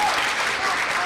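Audience at a Founders' Day school event applauding the sophomore class, a dense, steady wash of many hands clapping together throughout the brief moment.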